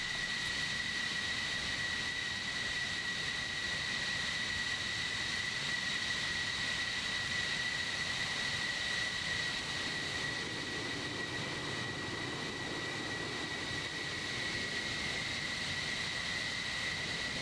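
F-14 jets taxi in a Cold War era flight-sim game, a constant distant turbine whine and steady broadband engine roar that holds level for the whole stretch without voices.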